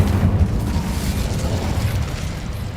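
An Incendio fire spell in Hogwarts Legacy bursts out as a loud, close roaring whoosh of flame with a heavy low rumble that holds steady and slowly fades.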